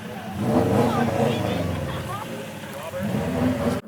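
Stock Nissan 370Z with its VQ37VHR engine drifting, a loud, continuous high-revving engine roar with pitch sweeps as the throttle rises and falls, close up, cutting off abruptly at the end.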